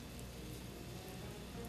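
Egg-coated Korean jeon pancakes sizzle on a flat iron griddle with a steady, dense crackle like rain, loud and close, without any voices.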